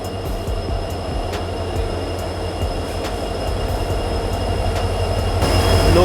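The Highcourt Express, hauled by a WDP4B diesel locomotive from Bhagat Ki Kothi, is shunted onto platform 3 in Jaipur: a close, continuous, heavy rumble with rhythmic wheel clicks and a high metallic squeal, slowly growing louder.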